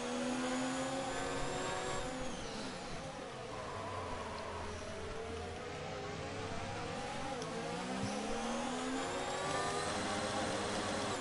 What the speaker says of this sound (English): Oh, now it's changing gears by itself.